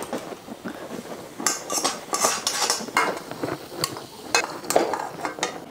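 A utensil scrapes and clatters against a kadai while atta halwa is stirred, giving an irregular run of metallic knocks and scrapes, close and fairly loud, with no talk.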